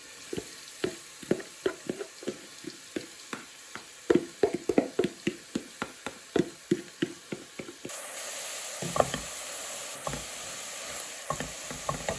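Diced onions, about 500 grams, cook in a saucepan with a steady sizzle under repeated scraping and stirring clicks from a utensil, and the frying hiss grows louder and brighter partway through.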